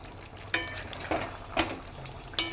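A spoon knocks and scrapes around the bottom of a pot of lemon chicken, giving four short distinct clinks over a low, steady simmering bubble.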